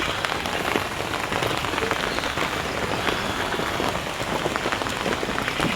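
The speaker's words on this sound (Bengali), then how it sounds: "বৃষ্টি এক নাগাড়ে পড়েই চলেছে" Heavy, steady rain pours down without a break, a dense continuous hiss of drops pattering on surfaces throughout, with no voices.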